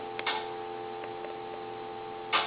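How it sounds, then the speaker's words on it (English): A steady telephone dial tone hums from a Coby CT-P750 speakerphone under repair, quiet and continuous, with a few faint clicks and a louder handling knock at the end. "Dial tone."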